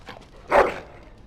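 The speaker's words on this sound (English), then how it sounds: "Bloody dog." A dog gives a single short whimpering yelp in the video game Dragon Age: Origins, a brief clear cry standing alone against quiet background.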